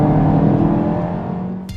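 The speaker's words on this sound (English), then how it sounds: "good pickup demands liberal use of the gas pedal, which has the engine sounding loud and coarse." Mazda CX-3 crossover engine revving hard under heavy throttle, a loud, coarse, close-up drone that holds steady, then fades slightly before cutting off.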